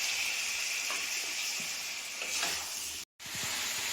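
Spices sizzling steadily in a little oil in a pan for a cauliflower and potato curry, with occasional scraping stirs of a spatula, a continuous close hiss.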